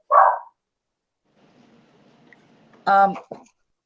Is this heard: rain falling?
no